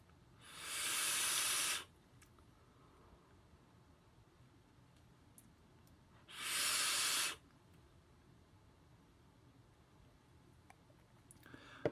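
Two long, loud hissing draws on a CSMNT RDA atomizer by D5XMMC running at 122 watts, each lasting about a second with a quiet gap between, with no talking.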